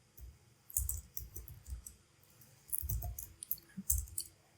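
Typing on a computer keyboard produces quick bursts of close, clicky keystrokes separated by short pauses, with no voices.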